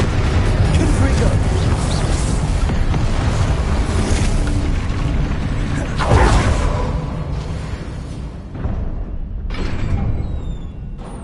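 Confringo blasting spell explosions in a Harry Potter video game: loud whooshing, booming blasts over dense, continuous game noise, with one sharp burst near the middle before the din briefly drops away.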